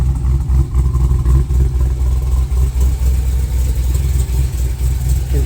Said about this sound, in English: You can hear that belt singing when you give it the revs.